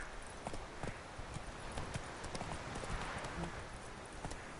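Horse hooves trot in a steady clip-clop rhythm in the video game The Witcher 3, fairly quiet and continuous throughout, with faint game ambience underneath.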